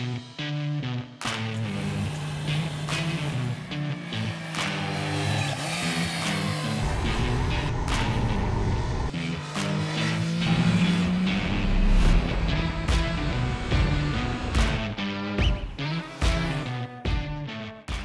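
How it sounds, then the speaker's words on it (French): An 82-horsepower three-cylinder Triumph Trident motorcycle engine revs and accelerates loudly and up close, rising and falling in pitch with sharp throttle blips, no talking. "C'est un petit moteur de 82 chevaux qui a un beau couple parce que c'est un 3 cylindres"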